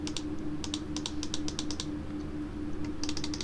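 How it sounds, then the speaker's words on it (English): Rapid clicking on a computer while playing Football Manager 26, crisp close-up clicks in quick bursts with a short pause in the middle, over a steady background hum. "Can you hear me just vigorously clicking?"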